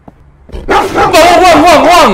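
In the Vietnamese horror game The Death Thần Trùng, a dog makes loud, continuous vocalizations with a wavering, whining edge that start abruptly after a short quiet moment and stay close and intense.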